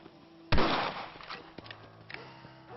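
A single loud, close rifle crack from the Red Dead Redemption video game, with a ringing tail and faint clatter and movement in the quiet afterward.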